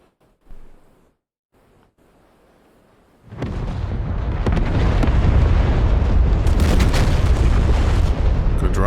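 JDAM bombs strike an SA-2 missile site in DCS World: after a quiet stretch with a faint thump, a heavy rolling series of explosions surges in and sustains as a loud, continuous rumble.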